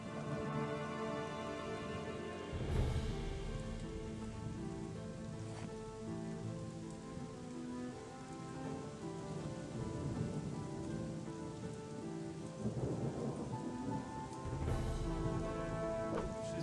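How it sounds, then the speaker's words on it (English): Steady rain patters on surfaces in the video game Chronicles of Myrtana: Archolos, and two deep thunder rumbles roll in under a low musical score. "And once again, it is raining because it rains every friggin' day."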